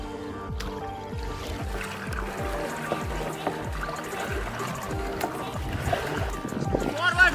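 Homemade jugaad boat moving quickly through shallow water, with a steady churn and splashing and repeated rhythmic strokes, people's voices mixed in.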